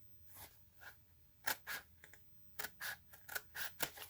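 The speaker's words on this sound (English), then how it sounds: "And I'm just cutting this out." Scissors cutting out cardboard pieces for a homemade tarot box, close and quiet, a series of crisp snipping strokes that come in uneven bursts and quicken toward the end.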